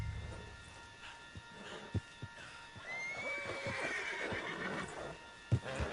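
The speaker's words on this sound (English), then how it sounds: "Put Strauss on the back of John's horse and let's get out of here." A horse whinnies loudly in a Western-style video game, a long rising neigh, with scattered hoof clops and thuds around it, close and clear and with no talk over it.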